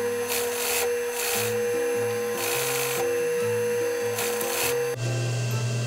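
A sewing machine stitches a T-shirt seam in several short bursts of rapid mechanical whirring with back-tacking, each burst stopping and starting again, close and moderately loud, with no talking.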